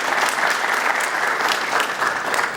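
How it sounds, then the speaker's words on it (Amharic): A crowd at a book talk gives sustained applause, many hands clapping in a thick, even roar that continues at full strength throughout. "ዘለግ ያለ ጭብጨባ ነው የሚያስፈልገው።"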